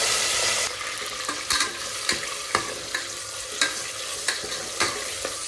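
Tomato and onion frying together in a pan for biryani gravy, a steady loud sizzle broken by regular scraping stirs of a spoon about every half second, close by.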